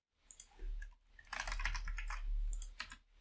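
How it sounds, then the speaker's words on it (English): Computer keyboard keys clacking in a quick burst of typing and presses, ending with a key press to run a Python script, fairly close and moderately loud with no talking. "Now I'm going to press F5 to run the script."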